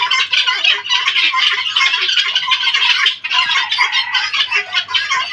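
A nine-month-old guinea fowl gives loud, close, harsh squawks in a rapid, continuous run with only one short pause partway through, and no voices.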